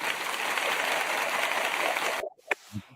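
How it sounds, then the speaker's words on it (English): Crowd cheering and applause played as a sound effect, a dense continuous roar of clapping that cuts off abruptly near the end, followed by brief quiet and small sounds. "The crowd, they're going crazy"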